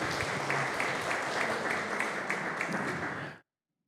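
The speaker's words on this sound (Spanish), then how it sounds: "Fuerte el aplauso, por favor, para Kelly." Steady crowd applause for a women's football club player being introduced at a team squad presentation, dense, even clapping with no voices over it, cutting off abruptly near the end.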